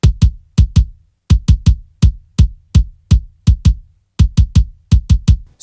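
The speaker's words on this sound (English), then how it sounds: "So all the kick samples together sound like this." Several layered kick drum samples hit together as one focused, biting kick, playing loud, tight low thumps in a steady syncopated pattern of pairs and triplets, with no other instruments or voices.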